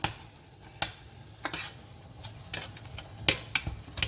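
Corn in tomato sauce with a little added water being stirred in a pan on an electric hob, with a soft simmering hiss under repeated sharp spoon scrapes and clicks against the pan at an uneven rhythm.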